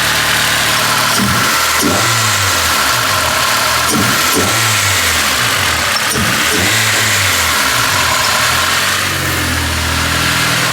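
A Honda K-series car engine with a DIY intake starts and settles into a lumpy idle, then revs up several times in quick bursts, loud and close.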